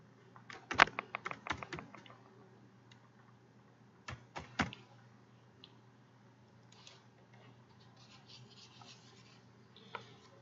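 Quiet bursts of computer keyboard typing: clusters of crisp key clicks near the start and again around the middle, then sparse taps in a hushed room with no talk.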